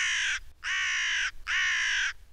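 Three loud, harsh crow caws in a cartoon garden where turnip seeds have just been sown, each call drawn out and evenly spaced with short gaps, close and clear with no talking.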